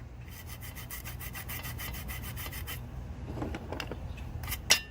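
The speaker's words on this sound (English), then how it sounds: "We're going to get a Scotch-Brite. Polish this thing up very, very, very easy, very simple." Scotch-Brite pad rubbing over an engine part on a 1999–2003 7.3L Powerstroke diesel, a close, steady fast scrubbing that runs continuously, thins out partway through, and ends in a sharp knock.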